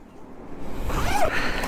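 A ventilation zipper on a Rynox motorcycle riding jacket is pulled open in one quick, close rasp lasting under a second.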